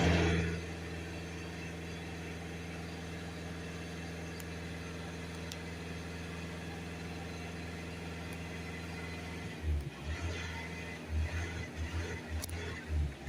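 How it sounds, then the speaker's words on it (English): VW Crafter 2.0 TDI van diesel engine revving, a steady close drone that turns into uneven rumbling bursts in the final seconds, with no one talking. "We'll come back in the van now, we'll just give it some revs."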